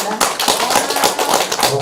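Audience applause at a Korean poetry event honouring a poet, a dense, steady wash of many hands clapping that carries on for the whole stretch at close range.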